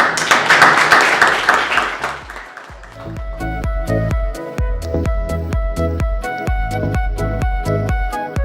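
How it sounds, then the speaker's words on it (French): Audience at a sustainable two-wheeler hackathon in Marrakech applauding: a burst of dense clapping for about two seconds that fades, then gives way to steady rhythmic beats with music-like tones. "Applaudissements."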